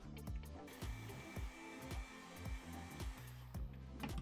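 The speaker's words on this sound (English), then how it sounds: "we're gonna heat this up" Heat gun blowing to heat a piece of craft foam for a helmet build, a steady close whooshing roar with a pulsing rhythmic low thump throughout, no talking.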